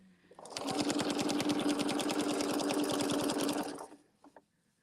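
A sewing machine stitching a quilt runs in a steady, fast rhythmic chatter for about three seconds, close and loud, then winds down and stops with a couple of faint clicks.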